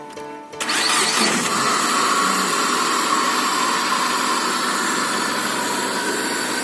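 A car engine with its air filter removed catches during engine-management maintenance, then settles into a loud, steady, broadband running roar that holds unchanged to the end.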